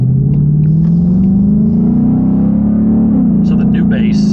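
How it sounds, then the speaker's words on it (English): A newly installed car audio system playing very loud, sustained deep bass inside a moving car, a heavy booming low tone that shifts slightly in pitch over a rumbling road background. "So the new bass is insanely loud."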